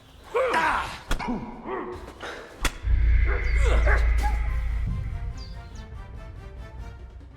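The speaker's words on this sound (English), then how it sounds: "What's that dog making such a fuss about?" Dog in the medieval RPG Kingdom Come: Deliverance 2 barks in a few sharp bursts near the start, then a loud low rumble and other game sounds take over.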